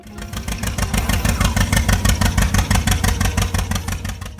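A John Deere Model D tractor engine chugs with a loud, even, pulsing beat at a steady pace, close by and without any voices.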